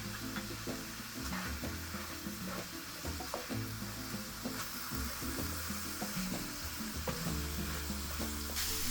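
Meat seasoned with salt, pepper, ground cumin and chili powder sizzles in a hot pan for tamale pie while a utensil stirs it in repeated scraping strokes under a constant frying hiss, with no talking.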